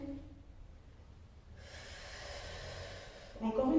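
A person breathes in and then blows out during a Pilates workout, a close, airy inhale followed by a longer, steady exhale, with a brief voice at the end.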